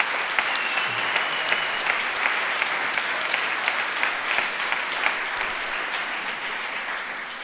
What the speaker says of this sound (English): I think that's definitely worth a round of applause.